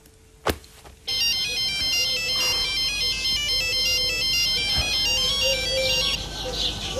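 A telephone ringtone rings loudly and steadily for several seconds in a Turkish TV film scene, after a brief knock-like sound at the start.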